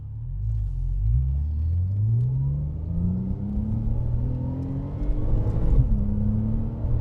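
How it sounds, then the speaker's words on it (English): A 2012 Porsche 911 (997) Turbo S Cabriolet engine in sport plus mode with exhaust valves open revs steadily upward, deep rumbling exhaust rising in pitch through several gear-like sweeps, loud and close with no talking. "Really wakes up those turbos. Opens the exhaust valves."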